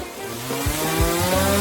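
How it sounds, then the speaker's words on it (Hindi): A saw cuts into a large piece of candy during a food challenge, with repeated rasping strokes at a steady rhythm heard close up and with no voices. "बिल्कुल, यह आरी इसमें मेरी मदद करेगा। चलो अब इसे काटती हूँ।"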